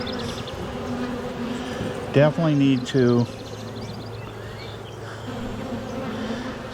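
Honeybees buzz around an open hive during a spring inspection, a steady close hum beneath brief voices and a short burst of harmonic speech partway through.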